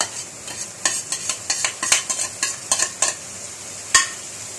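Onion and garlic fry in a skillet for spaghetti, with a constant sizzle under a quick, uneven run of sharp spatula scrapes and clicks against the pan, one last knock standing out near the end.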